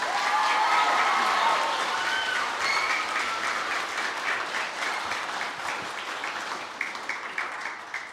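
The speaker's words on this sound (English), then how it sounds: "Can we give them a round of applause, please?" An audience applauds at a school senior prizegiving, a dense wash of clapping that starts strong and slowly thins out over several seconds, with no talking over it.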